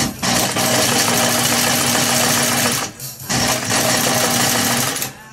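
Industrial sewing machine stitching leather for a journal, a steady loud mechanical hum and clatter running continuously, briefly pausing near the three-second mark before resuming.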